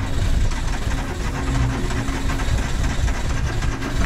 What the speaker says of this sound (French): tu vas nous la démarrer un petit cold start en espérant qu'elle soit pas capricieuse